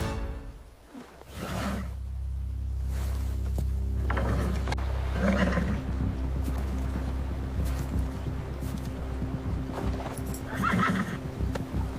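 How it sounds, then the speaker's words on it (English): A horse standing in for the winged Pegasus of Greek myth lets out loud neighs and whinnies in bursts, alongside clip-clopping hooves and snorts, with no voices present. "he mounted Pegasus and commanded the stallion to climb"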